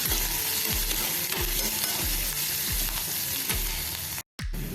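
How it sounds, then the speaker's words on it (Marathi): Finely chopped ginger and green chili sautéing in hot oil for a samosa filling, with a dense, loud sizzle and regular rhythmic stirring strokes about every half second, close up, broken by a brief silent gap near the end. "आलं आणि हिरवी मिरची जी आपण बारीक चिरलेली आहे ती घालूया आणि ती आपण थोडीशी परतून घेऊया"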